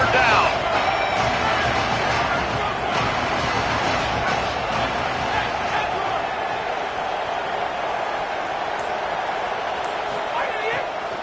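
Texas Tech Red Raider fans at a college football game against Oklahoma keep up a steady, dense roar on third down, a continuous wash of crowd noise with a voice talking over it.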